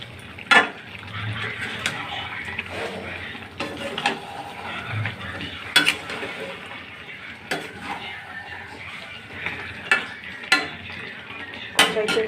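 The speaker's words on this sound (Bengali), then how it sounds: "এই দেখো আমি মাংসটা কষাচ্ছি" Chicken meat being sautéed in a pan, soft sizzling under repeated scraping and clanking of a utensil against the pan, irregular stirring strokes close by, with some talk mixed in.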